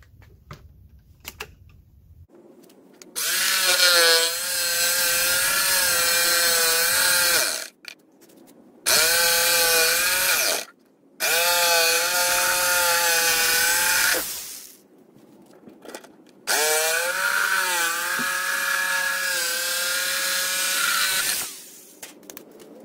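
A power jigsaw cuts a circle from a pilot hole for a homemade vibrating parts washer, four loud sustained buzzing bursts of cutting separated by short pauses, close and with no talk.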